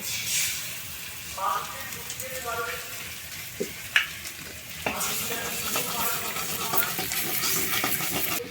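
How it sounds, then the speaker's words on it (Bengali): Egg being fried among vegetables in a pan for chicken chow mein, a steady close sizzle with scraping stirs and a few sharp utensil clicks, while a voice talks faintly in the background partway through. "একটা ডিম নিলাম হাতে দেখো এটা এখন এই সবজিগুলোর মধ্যে ভালো করে ভেজে নেব"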